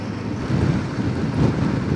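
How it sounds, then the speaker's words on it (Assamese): Heavy downpour at Sepon in Assam during a motorbike trip, a dense, steady roar of broadband noise with gusty swells throughout and no talk. "ধাৰাসাৰ বৰষুণ।"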